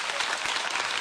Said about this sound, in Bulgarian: Моля, аплодисменти за господин Рахнев.